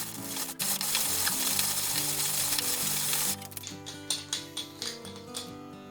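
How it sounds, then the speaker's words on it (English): A manual burr coffee grinder crunches whole beans as its handle is turned, a close gritty rasp that breaks into a string of rhythmic grinding strokes toward the end. "So last one is this manual coffee grinder. This is a burr grinder."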